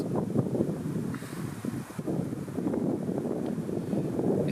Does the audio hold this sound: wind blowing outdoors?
yes